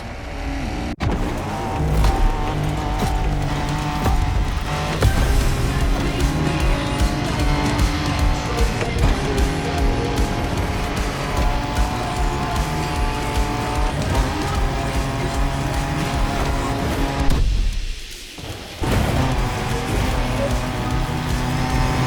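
Off-road racing in The Crew Motorfest: a car engine roars steadily with tire skids and rough driving noise throughout, dipping briefly near the end before resuming. Loud and continuous, with no talk.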